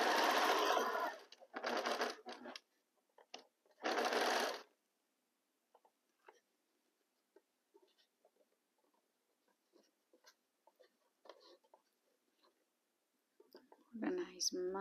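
Domestic sewing machine stitching fabric in three short, loud bursts of rapid whirring at the start, followed by quiet handling clicks and rustles, and another brief burst at the very end.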